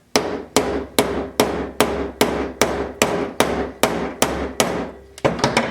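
A hammer strikes a wedge during an axe modification, about a dozen sharp, evenly spaced metallic whacks ringing loud and close, speeding into a quick final flurry, with no voices.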